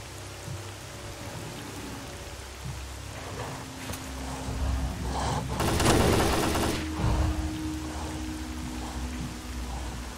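Rain in STALKER: Call of Pripyat, a steady hiss of falling drops with a low ambient hum and a louder gusting burst midway; no talking.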